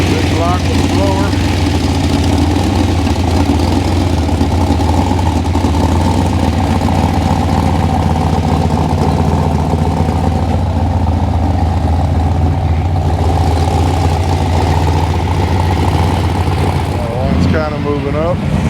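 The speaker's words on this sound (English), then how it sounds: "Big block with the blower." A supercharged big-block engine in a rat rod idles with a steady, loud, deep rumble at an outdoor car show in Las Vegas, and voices are heard over it.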